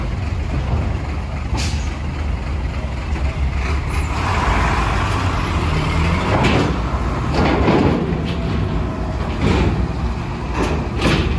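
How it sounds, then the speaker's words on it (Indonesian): Trucks idle and rumble at Merak ferry port, with a deep continuous engine drone, a few sharp hissing air-brake bursts and clanks, close and loud throughout. "Kita lihat belakang masih ada banyak truk"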